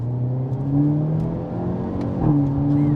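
A Hyundai Elantra N hot hatch revs as it shifts into second gear, the engine tone rising and then dipping at a quick shift. The engine sounds fairly close, with cabin whir underneath and no talking.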